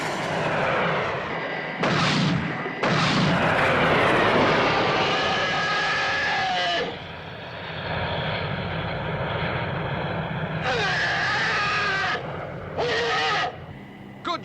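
Heavy gunfire from the Thunderbirds craft blasting at alligators comes as loud, dense roaring bursts over a droning engine, with sharp breaks between volleys and no talking.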